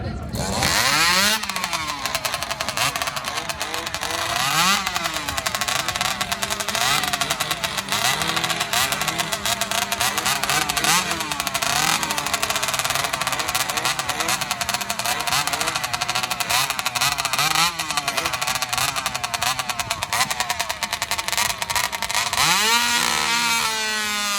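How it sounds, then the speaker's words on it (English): Several chainsaws revved together at an outdoor festival competition, a loud continuous roar of two-stroke engines rising and falling in pitch as they warm up, with a crowd and announcer faintly beneath. "Now these saws are loud"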